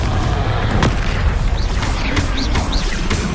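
Explosive fire spell blasts in the Hogwarts Legacy video game: a loud, dense boom with crackling bursts running continuously, a sharp hit near the start and further impacts and whooshing sweeps layered throughout.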